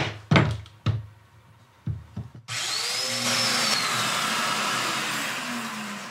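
A Festool Domino DF-500 joiner plows a mortise with a sustained, loud motor whine and cutting roar that starts abruptly after a few knocks and thumps of handling, then holds steady to the end.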